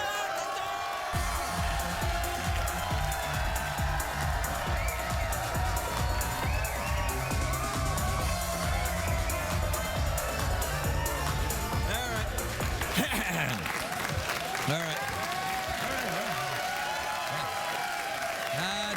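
Studio audience on a late-night talk show applauding and cheering, a loud sustained wash of clapping and whoops that fills most of the stretch, with music and talk mixed in and a brief drop near the end.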